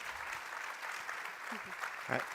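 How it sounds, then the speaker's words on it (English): Attendees at a European research and innovation conference session applaud the guests with soft, steady clapping, while a voice murmurs faintly underneath near the end. "a round of applause for our guests"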